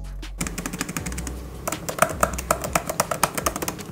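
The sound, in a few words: typing on Apple MacBook Pro M2 Magic Keyboard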